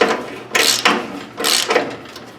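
A wrench tightens a loose bolt on an antique table saw, producing close, uneven metallic ratcheting and scraping strokes in several separate pulls.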